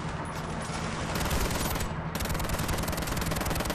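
Gunshots in the video game Army of Two: dense, continuous automatic fire, loud and close, with a brief shift in tone midway as the bursts carry on unbroken.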